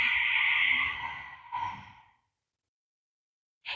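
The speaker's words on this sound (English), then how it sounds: "Same with the exhale, almost like fogging up a glass." A long, steady ujjayi exhale during a standing yoga practice, breath pushed softly through a constricted throat with a hushing, airy quality, followed by a shorter second breath and then a brief breath sound after a silent pause.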